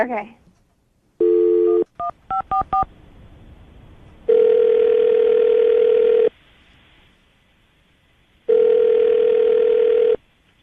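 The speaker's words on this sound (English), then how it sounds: "I'm gonna dial the phone number right now" A string of quick telephone keypad tones beeps out a number, followed by two long, steady ringback tones separated by silence.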